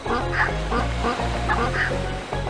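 Geese in the children's game Reksio and the Pirate Treasure, honking and quacking repeatedly in a busy, overlapping flock over a steady background tune, loud and close.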